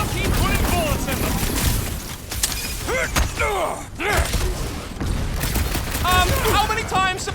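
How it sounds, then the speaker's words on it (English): Gunfire in the Guardians of the Galaxy video game, rapid bursts of shots and sharp impacts with whooshing, whistling energy sweeps over loud continuous battle noise, with voices talking throughout. "I'll keep putting bullets in them"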